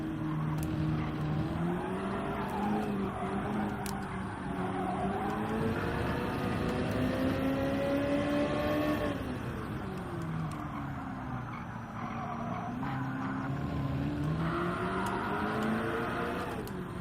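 A race car in Gran Turismo 7 drives steadily, its engine droning and rising and falling with throttle and gear changes, with some tire squeal, continuous and fairly loud throughout.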